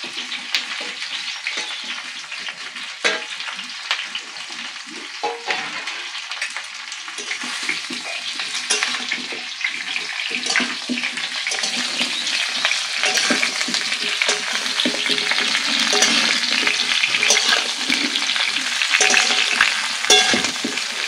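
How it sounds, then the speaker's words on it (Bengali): Panch phoron spices frying in oil for a mango pickle, a steady, loud crackling sizzle with stirring that runs continuously and builds slightly toward the end, with no talking. "ফোড়নটা একদম ভালো করে ভেজে নেবে"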